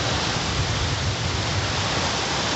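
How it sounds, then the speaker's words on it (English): Strong wind during a September wind storm, a constant dense roar buffeting close by with no pause and no voices. "Got some more intensification in the wind"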